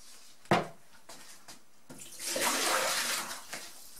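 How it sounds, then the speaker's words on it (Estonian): Pot of semolina porridge lifted out of a cold water bath in a kitchen, with a sharp knock and small splashes, then a longer swell of sloshing, draining water before a final clink. "Võtan siit külmavee vannist välja."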